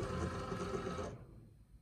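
A Cricut Explore Air 2 cutting machine loading a cutting mat, giving a brief close mechanical motor whir with a steady hum that stops abruptly after about a second, leaving near silence.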